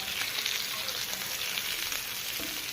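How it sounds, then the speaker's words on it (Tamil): Fish coated in ground masala fries in a pan with a close, steady crackling sizzle and busy spitting oil, continuous and fairly soft. "மீன் வறுத்திருக்கோம்."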